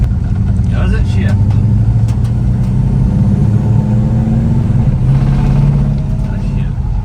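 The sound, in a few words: 1968 Dodge Dart with new transmission accelerating and shifting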